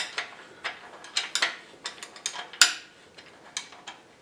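A 12 millimeter bolt and 13 millimeter nut are tightened at the base of a Vevor air jack, giving a run of sharp, close ratcheting clicks in uneven bursts, with one louder snap near the middle.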